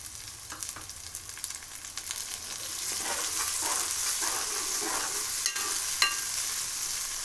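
Mint leaves frying in a pan for crab curry, with a soft hiss of oil that swells into steady sizzling, broken by light clinks and scrapes of stirring.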